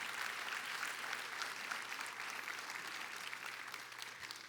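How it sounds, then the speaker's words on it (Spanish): Church congregation applauding during a Spanish-language service, steady even clapping with a low electrical hum beneath it. "Dele ese aplauso al Señor."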